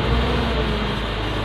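A Suzuki Jimny engine held at raised revs, giving a loud, steady, broadband roar with no break or variation through the short stretch.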